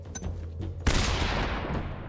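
Gunfire in the video game Metal Gear Solid 3: Snake Eater breaks out as a sudden loud burst after a quiet stretch, then carries on as dense sustained automatic fire that fills the rest of the moment.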